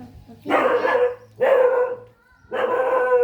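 A dog barks in three loud, close bursts separated by short pauses, each bark ringing with a harsh, full tone.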